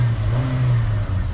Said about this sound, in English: the engine already has this sort of whine to it